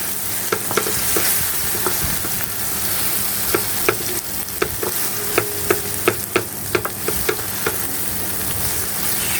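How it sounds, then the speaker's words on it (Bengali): Ground dried fish paste (shutki) frying with onions in a pan, a steady loud sizzle broken by repeated sharp taps of a spatula stirring against the pan, quickening toward the end. "এখন এর মধ্যে আমরা শুটকি যেটা বেটে রেখেছিলাম সেটা দিয়ে দিচ্ছি।"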